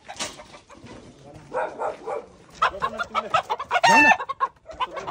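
Chickens cluck and squawk close by in short, irregular bursts, with a brief louder cackle near the end and faint voices under them.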